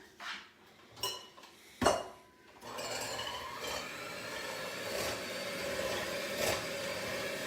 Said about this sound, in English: So now it says go ahead and beat the eggs.